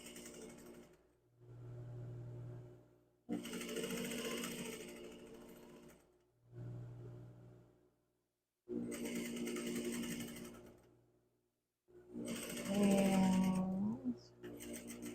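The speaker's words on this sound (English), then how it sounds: "And just start stitching down. So this is a top stitch." A sewing machine top stitches a shirt collar in three separate bursts of steady mechanical whirring, with a low hum from the machine between runs and a louder final run.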